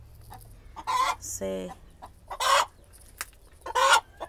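A brooding hen clucks up close in several short, raspy bursts spaced through the stretch. A faint voice murmurs in the background.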